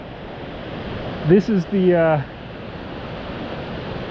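Beaver Brook near Mount Wolf, New Hampshire, running hard after heavy overnight rain, a steady broadband rush of water throughout, with a person briefly speaking over it.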